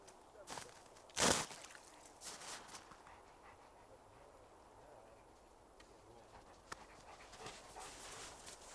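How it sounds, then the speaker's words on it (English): A dog pants softly and steadily nearby outdoors during winter ice fishing for perch, with a brief louder rustle or bump early on and faint background noise throughout. "All kind of different dogs come to visit me as a guest."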